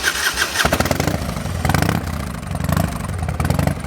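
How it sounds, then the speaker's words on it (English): A carbureted Harley-Davidson motorcycle cranks with a few sputtering turns, then catches and settles into a loud, lumpy, uneven idle with slight revving, close by and alone. "Nothing sounds like carbureted Harley Davidson."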